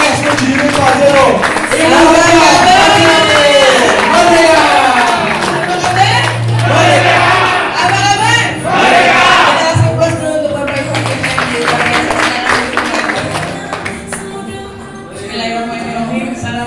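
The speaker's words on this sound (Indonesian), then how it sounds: "kita sambut beliau dengan aplaus yang sangat meriah" An audience at a seminar gives lively applause and cheers for an honoured guest. The crowd noise is loud and sustained, mixed with an energetic voice over a microphone and background music.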